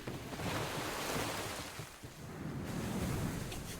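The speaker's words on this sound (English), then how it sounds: "Waves the size of buildings crash around him." Storm waves crash and surge in the video game Link's Awakening amid thunder and driving rain, a continuous roaring wash of surf and wind with no voices.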